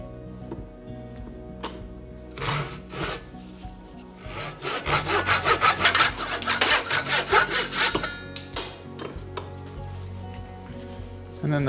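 A hand saw cuts a wooden guitar soundboard brace to length, making a run of quick rasping back-and-forth strokes, close and moderately loud, after a few light knocks of wood.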